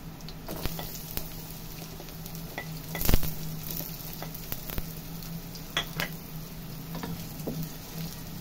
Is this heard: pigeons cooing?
no